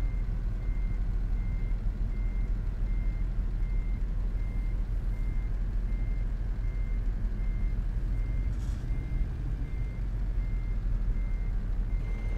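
A truck in Euro Truck Simulator 2 backs up with a trailer, its reversing alarm beeping at a steady regular pace over a loud, constant low engine rumble.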